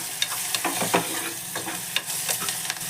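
Steady close sizzle of onion and green chillies frying in a pan for a fenugreek leaf moong dal fry, with light scrapes of a spoon stirring through it.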